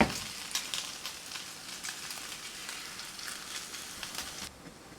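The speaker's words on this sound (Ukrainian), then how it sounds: "накриваю кришкою і буду її смажити на середньому нагріві" Potatoes pressed flat with a spoonful of fat and a little mushroom, frying under a lid over medium heat, a steady close sizzle with crackling pops that ends abruptly.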